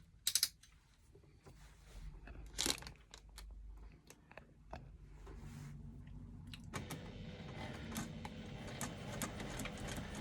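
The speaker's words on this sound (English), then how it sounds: "I'm going to stitch that in place using a scant 1/4 inch seam allowance" Sewing machine with a Teflon foot stitching fabric for a bag pocket, a few faint clicks first, then a steady quiet mechanical whir that starts about two-thirds in and continues to the end.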